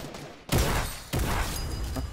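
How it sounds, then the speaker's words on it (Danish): Gunfire in Fortnite comes as two loud bursts of rapid shots, close and harsh, each breaking sharply over a dense, noisy game background. "Skud på mig."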